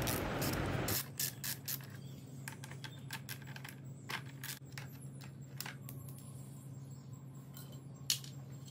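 A 10mm socket ratchet works on bolts of a 2018 KTM Duke 390 radiator guard, giving scattered sharp metallic clicks and ticks over a low steady hum, faint and close, with one louder clack near the end.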